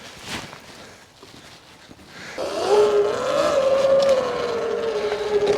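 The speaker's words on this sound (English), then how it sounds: "Oh, is that our front brake? Front brake's whining." Front brake on an E Ride Pro SS 2.0 electric bike whining and rubbing, a steady high tonal whine that rises from about two seconds in and holds with slight pitch sweeps, fairly close and alone.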